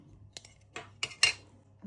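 A container of chickpea soup with coconut milk is opened in a kitchen, giving a few brief, close clicks and scrapes with a sharper snap near the end, no talk.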